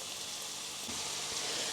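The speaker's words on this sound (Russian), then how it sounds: "На оливковом масле обжаривается чеснок, красный острый перец, лавровый лист и лук." Garlic, red chili, bay leaf and onion fry in olive oil in a pan, giving a steady, soft sizzling hiss throughout.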